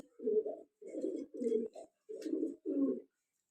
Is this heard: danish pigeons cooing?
yes